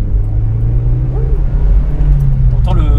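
Mazda MX-5 NC Niseko engine hums steadily at low pitch with a faint intake whoosh, heard from inside the car under ongoing conversation.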